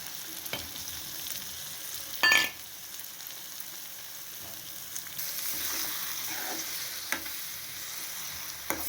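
Beaten eggs are stirred into moringa leaves frying in a pan, with a steady soft sizzle underneath, occasional scrapes of the spoon and one sharp clink of utensil on the pan, close and fairly quiet without speech.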